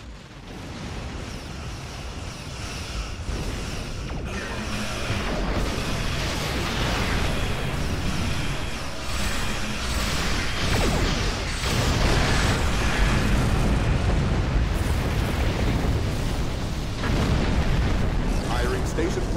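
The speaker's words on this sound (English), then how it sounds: "Firing Station Plasma Lance in 3, 2, 1." A Station Plasma Lance fires and detonates amid Star Trek Online space combat, a sustained roaring barrage of booms and rumbling energy blasts building in loudness, with a voice talking underneath.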